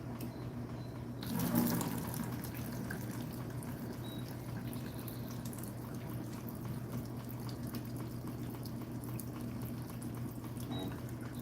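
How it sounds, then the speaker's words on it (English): Water drains from a Zeny mini portable washing machine spin dryer, a quiet, steady trickling and gushing that runs throughout, with a brief louder splash near the start. "I adjusted the camera so we can see the water coming out, the drain."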